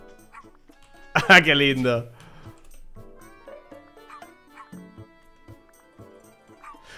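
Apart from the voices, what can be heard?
dog barking when petted in video game Sparklite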